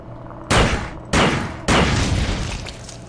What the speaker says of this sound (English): Laser pistol.